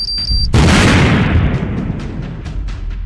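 A bomb explodes in a staged real-life Free Fire scene, a single sudden loud close blast that booms and then rumbles away over about two and a half seconds.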